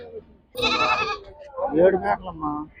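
A goat lets out a loud, wavering bleat up close at a goat market in Nandigama, followed by more shaky bleating cries from goats and kids mixed with nearby voices.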